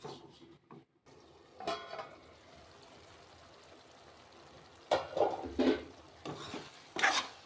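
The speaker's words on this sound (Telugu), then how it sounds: "సిమ్లో పెట్టి ఇలా వేపుకుంటే బాగుంటాయి" Food frying on low flame in a pan, a faint sizzle with soft stirring and scraping of a utensil against the pan, coming in scattered bursts with quiet gaps.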